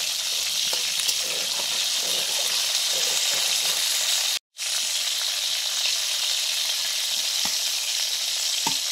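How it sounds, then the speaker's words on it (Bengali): Five-spice mix and dried red chillies temper in hot mustard oil for khichuri, sizzling and crackling loudly and continuously, with one very brief dropout midway. "সরষের তেল দিয়ে ফোড়নে দিলাম 5 ফোড়ন, শুকনো লঙ্কা,"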